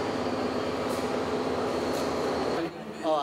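A crowded commuter train in Colombo, Sri Lanka rumbles with a steady rhythmic rattle of wheels on track and broad interior noise, continuous and close, with voices faintly mixed in.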